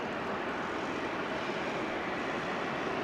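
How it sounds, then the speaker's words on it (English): An Alaska Airlines E-Jet passing at Los Angeles airport, a steady broadband engine roar at moderate distance, even in level throughout. "It's an E-Jet, and it's headed up the coast to San Francisco."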